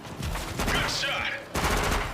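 Gunfire in a zombie short film: a dense burst of shots over roughly two seconds, loud and close, with a sharp new volley near the end and voices mixed in.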